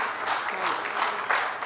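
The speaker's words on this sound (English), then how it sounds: "Ladies and gentlemen, nice big round of applause." Audience applause fills a hall at a radiology society event, a steady, dense clapping that holds evenly throughout with no voices over it.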